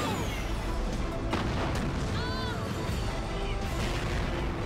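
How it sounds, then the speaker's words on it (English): Rocket launcher fired in Resident Evil 3, a heavy boom rolling through dense game noise and music, with brief whistling tones near the middle and no clear separate impacts. "Rocket launcher."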